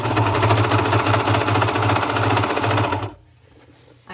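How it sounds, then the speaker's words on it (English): A serger overlock sewing machine trimming fabric with its cutting knife runs loud and close with a fast, rattling stitch rhythm for about three seconds, then stops abruptly, leaving near silence. "And the serger's kind of loud."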